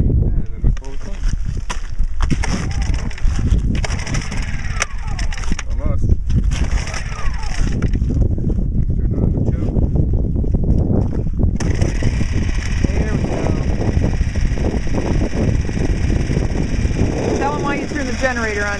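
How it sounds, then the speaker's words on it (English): Kerosene generator at a camp being pull-started and then running with a steady, loud engine drone; someone talks over it throughout. "Generator to provide power for our UPS and all of our electronic devices inside"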